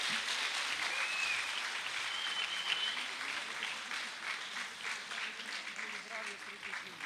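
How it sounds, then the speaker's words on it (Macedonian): An audience at a 2019 ceremonial academy for International Nurses Week applauds warmly at an award presentation, with sustained, even clapping across the whole stretch and voices faintly mixed in. "нека трае аплаузот, честитки за сите овие наши драги колешки и сестри"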